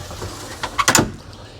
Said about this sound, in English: you can slide the door open